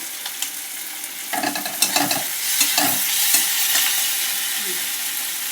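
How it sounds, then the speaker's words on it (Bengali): Onion, tomato and garlic paste fry in a pan for chicken curry, a steady sizzle punctuated by scraping stirs of a spatula, close and continuous without talk. "পেঁয়াজটা টমেটোটা রসুন বাটার সাথে ভাজা ভাজা হয়ে গেছে।"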